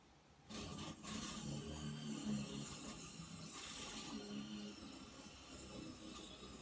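Construction work noise drifts in from a building site outside: a steady, fairly distant rumble with clanking and scraping bursts layered over it, continuing throughout without speech.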